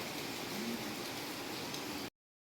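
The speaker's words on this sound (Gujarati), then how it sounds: "આજ અત્યારમાં વરસાદ આવવા મળ્યો છે" Steady rain falls in a continuous, even hiss, fairly close and alone with no voices, for about two seconds before cutting off.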